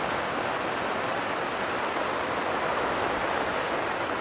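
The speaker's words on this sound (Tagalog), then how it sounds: "Grabe, lakas ng ulan" Dense, steady hiss of heavy rain pouring down without pause on a campsite at Caliraya, Laguna, close and loud, with no voices.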